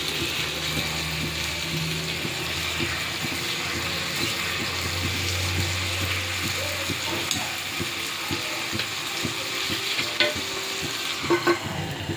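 Onion-topped uttapam sizzling on a pan, with a continuous close frying hiss and repeated scraping and tapping of a spatula, and no talk.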